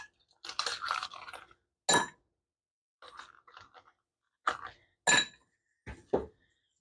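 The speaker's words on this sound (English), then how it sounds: "Let's get some ice cubes in there" Ice cubes clatter into a drinking glass for a gin or vodka and tonic, several separate sharp clinks and crunchy rattles in bursts with silent gaps, close and fairly loud.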